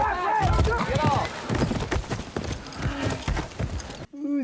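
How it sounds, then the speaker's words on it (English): Bucking horse at a ranch, hooves thudding and clattering in irregular bursts close by, with voices shouting over the commotion. "He bucks pretty good, Rip, but he's no rodeo horse."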